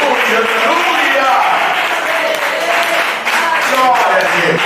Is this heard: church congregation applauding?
yes